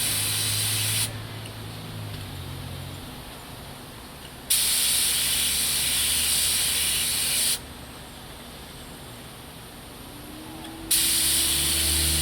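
A spray gun lays primer onto a Honda Accord bumper in a body shop, giving three loud, steady hissing bursts separated by quieter pauses, close up and with no talking.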